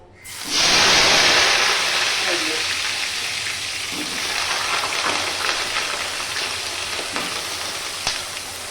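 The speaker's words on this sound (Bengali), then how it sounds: "এবার আলুটা ভেজে নেব।" Potatoes drop into hot oil seasoned with a bay leaf, setting off a loud, sudden sizzle that settles into a steady, crackling fry lasting throughout, with scattered pops and spits.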